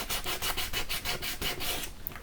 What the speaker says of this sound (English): So just go over and just sand that down.